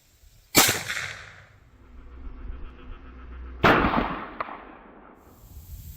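Two loud, sharp gunshots from a 45-70 Government rifle fired into a simulated deer shoulder, the first near the start and the second about three seconds later, each with a booming tail that rings out briefly.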